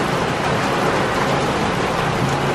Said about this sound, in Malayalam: ഇച്ചിരി മഴ പെയ്യുമ്പോഴേ ഈ ടെറസിൻ്റെ മേളിൽ വെള്ളം വന്ന് അത് ഈ പത്രക്കകത്തൊക്കെ വീഴുന്നതാണ്